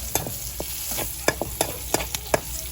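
Onion sautéing in a pan of oil for green papaya, heard as soft frying with scattered utensil clicks and scrapes in an irregular rhythm, close and moderately quiet, with no voices.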